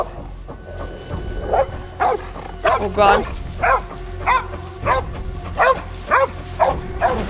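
Dogs bark and yip in a scene from The Last of Us Season 2, a series of short repeated barks heard over a low background rumble, with a person reacting in speech.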